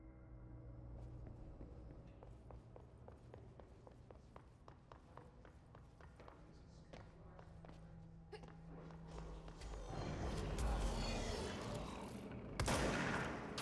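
Gunfire in the video game Control, heard as a long run of evenly spaced sharp shots at moderate volume. It swells into a louder, noisier stretch of blasts near the end.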